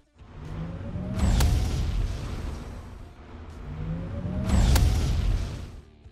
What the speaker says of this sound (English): Let's start with the normal damage.